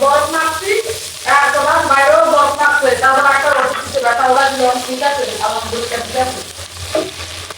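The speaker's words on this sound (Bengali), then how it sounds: "মাছটা ভাজা হোক" Fish fries in a pan with a steady, close sizzle beneath a person talking almost continuously.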